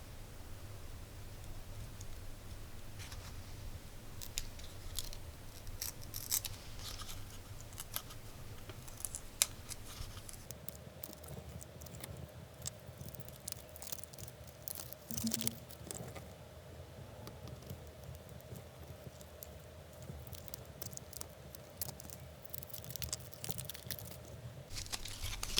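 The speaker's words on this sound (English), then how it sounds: "But first I need to peel it off this protection on the pieces." Protective film being peeled off laser-cut plexiglass pieces for a case: soft crackling, rustling tears in scattered bursts, close and faint over a low background hiss, with no talking.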